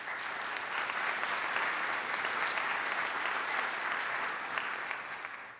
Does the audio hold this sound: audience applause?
yes